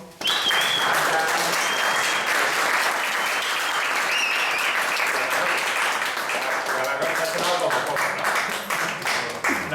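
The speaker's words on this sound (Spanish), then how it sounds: "Mauro, fuerte aplauso." Loud, sustained applause from a large audience greeting Mauro, a veteran of the TMEO, at its 30th-anniversary event; dense clapping fills the whole stretch with some voices mixed in, thinning slightly near the end.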